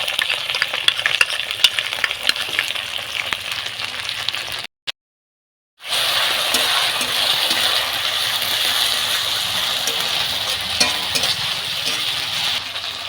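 Cumin and chili paste being fried and stirred with fried onion and ginger-garlic paste gives a busy, crackling sizzle with scraping stirs, broken by a full second of silence midway before resuming just as strongly.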